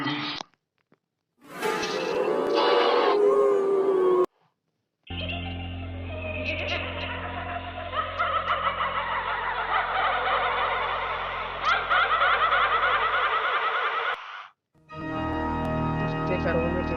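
Eerie ghost sound effects play back from a phone app, a short strange cry followed by a long, dense wash of layered wailing, chattering tones over a low drone, loud and up close, then cutting off before another burst begins.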